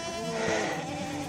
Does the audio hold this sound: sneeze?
no